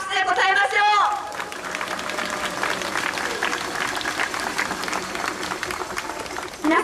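Applause from a crowd at an Okinawa peace and protest rally, a dense, sustained clapping that starts right after a voice and runs steadily to the end, with a little murmuring.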